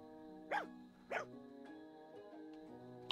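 A dog in Fire Emblem Engage gives two short barks close together, then quieter yips, over a steady game music bed.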